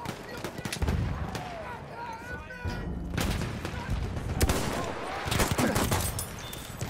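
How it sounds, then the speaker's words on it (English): Rapid machine gun bursts and scattered gunshots rattle through a foggy Battlefield 1 multiplayer match, loud and close, mixed with distant battle noise and occasional player chatter. "Look out! Machine gun!"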